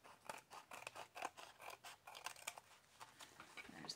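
Scissors snip and trim paper for a handmade flip flop journal, a quick series of close, crisp cuts with soft scraping between them, with no talking.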